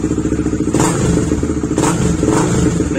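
A Suzuki Raider GTR 150 motorcycle with an MVR1 racing ECU idles with a pulsing exhaust beat through its muffler, then blips the throttle in two quick revs, loud and close-up.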